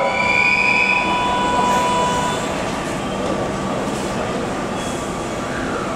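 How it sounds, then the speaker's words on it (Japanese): A Kintetsu limited express rolls into Yokkaichi station with a steady rumble of wheels on rail and brief high squeals of braking, loud and close on the platform throughout. "2番乗り場到着の電車54分発カスタム駅特急"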